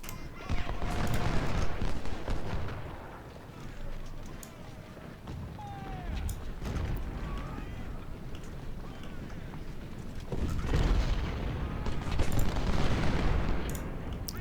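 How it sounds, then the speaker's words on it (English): Cannon and musket fire from a Confederate battle at 1st Winchester in the strategy game Ultimate General: Civil War, a continuous rumble of distant booms and crackling volleys that swells louder near the start and again toward the end. "I think we're in good enough cover here that this cannon fire isn't going to do too much to us."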